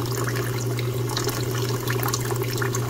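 Water pouring into the reservoir of a Taotronic nugget pellet ice maker, a steady continuous splashing and trickling over a low hum from the machine, close and unbroken for the whole span.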